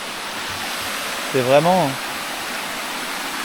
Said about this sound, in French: je suis en haut de la cascade de tout à l'heure là. Et il y a quoi? Juste là-bas, une autre cascade.